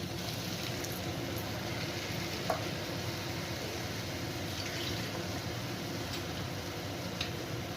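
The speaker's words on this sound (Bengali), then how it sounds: "মশলা মাখানো বাটিটা দিয়ে আমি জলটা দিয়ে দিচ্ছি" Water poured into a pan of spiced chicken mince, a continuous hissing, bubbling wash with small ticks, steady from start to end.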